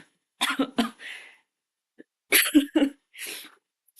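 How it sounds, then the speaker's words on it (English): Two bursts of harsh coughing, a few sharp coughs each, separated by a short quiet pause, close to the listener. "We cough in solidarity, of course."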